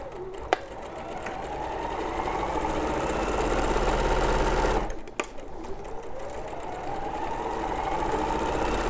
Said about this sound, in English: now I'm just going to sew with a 1 centimetre seam allowance